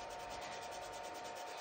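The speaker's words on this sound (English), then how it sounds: "As you move over with the sanding pad," A sanding pad rubs steadily over silver clay being polished for a fingerprint necklace, a continuous close, even scratchy hiss with faint rhythmic strokes and no talking.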